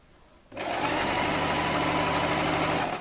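A sewing machine stitching a fabric strip onto a blouse starts after a brief quiet moment, then runs as a steady, close, continuous mechanical whir until the end.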